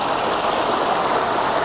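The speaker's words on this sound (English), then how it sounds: "creek that goes along this whole area" A small creek flows steadily nearby, a continuous gentle rush of water with no voices.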